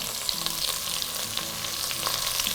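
Vegetables such as drumstick and raw plantain with a little coconut fry steadily in a pan, a dense continuous sizzle with occasional stirring scrapes, close and alone with no talk.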